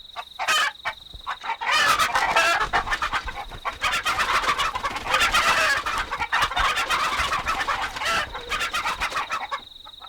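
A flock of chickens clucks and squawks in a busy, overlapping chatter, loud and close, with bursts of agitated calls running almost continuously after a brief quieter start.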